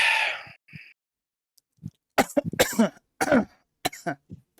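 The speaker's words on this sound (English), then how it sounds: "I did not actually want to start that with a cough." A few harsh, raspy coughs and throat-clearing sounds come close up, separated by short silences.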